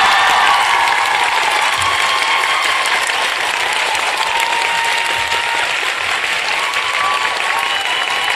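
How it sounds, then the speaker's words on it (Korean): Lecture audience at Ewha Womans University applauding loudly to welcome South Korea's foreign minister, Kang Kyung-wha, a continuous, full-room burst of clapping with some cheering throughout. "장관님을 큰 박수로 환영합니다"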